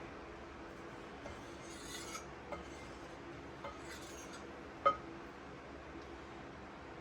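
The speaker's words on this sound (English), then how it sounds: "Just going to give this a mix. And I'm going to grab my pastry blender." A pastry blender works through dry flour, salt and baking powder in a bowl, making faint, soft scraping and rubbing with a few light knocks against the bowl, quiet and intermittent.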